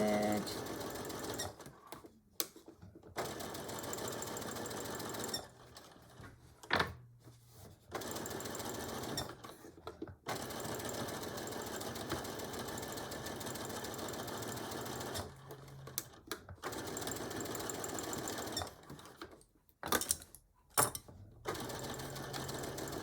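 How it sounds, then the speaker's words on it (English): A sewing machine back stitches while assembling a beach or diaper bag, long continuous runs of rapid stitching broken by several short stops and restarts. "Back stitch."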